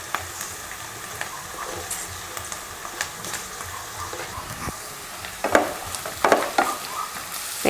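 Onion and cabbage sauté in a pan for a street-style dosa, sizzling steadily close up, with scraping and stirring clatter that grows louder and busier toward the end.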